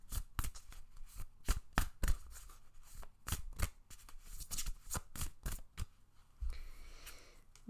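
Oracle cards shuffled by hand for a card reading: a close run of sharp, rapid riffling and flicking bursts in an uneven rhythm, loud and alone without any talk.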